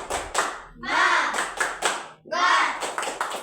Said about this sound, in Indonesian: Coba tepuk semangat.